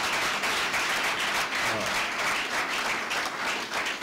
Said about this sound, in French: Alors applaudissez pour vous-même